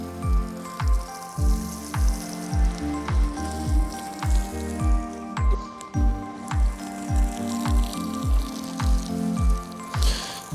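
A hand watering bulb spraying water over onions in a vegetable garden plot, heard as a long, steady series of rhythmic, evenly spaced squirting pulses, each about half a second apart.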